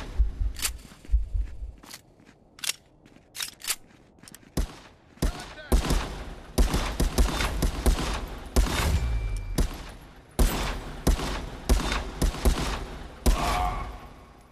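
Gunfire in the VR shooter Redemption Overview Contractors, with sharp close shots in quick bursts and single cracks, some rapid automatic volleys, and thuds and footsteps between them.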